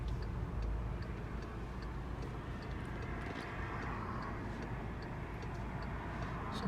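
A car's turn signal ticks steadily at an even rhythm inside the cabin while the vehicle drives, on a road-test route in Orangeville, with engine and road noise underneath.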